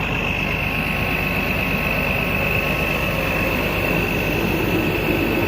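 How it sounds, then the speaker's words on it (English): A truck engine idles in freezing cold with a steady, continuous drone, a low rumble with a faint constant whine above it and no voices. "we've been sitting here running for 30 minutes now. The truck still is purring."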